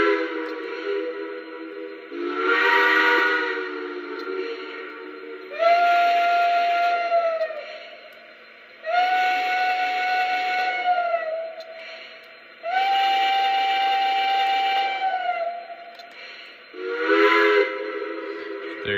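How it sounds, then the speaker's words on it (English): Steam whistle of a Lionel Legacy Pennsylvania B6sb model steam locomotive sounds five long blasts, deeper and higher tones alternating, each loud and sustained for a few seconds with short gaps between. "I like the little bit deeper whistle here."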